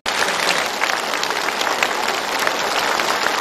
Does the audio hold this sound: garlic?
no